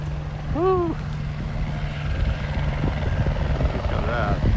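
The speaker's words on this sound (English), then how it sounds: "Helicopters coming down." A helicopter descending to land in wind in Tokyo, its steady rotor drone loud and continuous throughout, with brief excited vocal exclamations near the start.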